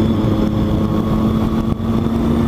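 Triumph Street Triple motorcycle engine running steadily with a constant droning hum and rumble, loud and close, with no talk.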